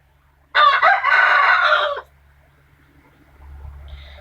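A ring-necked pheasant gives a single loud, harsh crowing call lasting about a second and a half, heard close with nothing else loud nearby, followed by faint low background noise.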